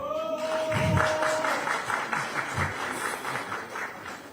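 Applause from an audience at a Korean political party supreme council meeting in Yeonggwang, a sustained wash of clapping that swells near the start and runs steadily beneath someone speaking.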